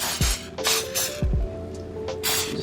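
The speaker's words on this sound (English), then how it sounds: "I'm gonna also spray a little bit of non-stick on the tenders as well" Non-stick cooking spray is misted in a few short bursts over raw chicken tenders on an air fryer rack, each hiss close and brief, with small clicks and knocks from the can between them.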